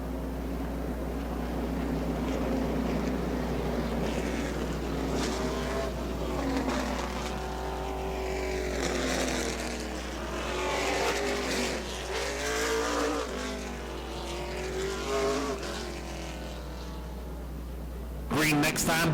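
Stock cars at a weekly oval race in Auburndale, engines droning and rising and falling as the pack passes, with a race commentator talking over the steady roar throughout.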